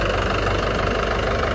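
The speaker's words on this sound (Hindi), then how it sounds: "अब ट्रैक्टर जा रहा है" Tractor engine running steadily as the tractor pulls away after wheat threshing, a loud, continuous close-up rumble with a knocking diesel throb and no voices.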